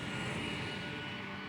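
Airplane engines kept running on the ground during a hurried airlift evacuation, a loud, continuous, unbroken roar filling the whole moment.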